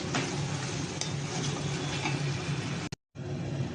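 Fried cashews are stirred into a semiya sweet in a pan, giving a steady close scraping and soft sizzling texture that continues until a brief silent gap, then resumes.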